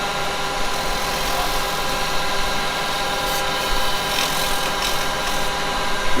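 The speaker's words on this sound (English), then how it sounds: "Got no more cutting to do as such, just a tiny sand on that" A turned wooden piece spins on a lathe while it is lightly sanded, producing a continuous close hiss over the machine's even hum, with no breaks and no voices.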